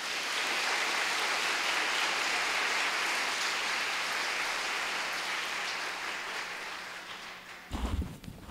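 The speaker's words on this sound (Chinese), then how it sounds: "我们来拍手欢迎好不好？" A church congregation at a Sunday service applauds, a dense, steady wash of clapping that fills the room and slowly fades, ending with a few louder knocks.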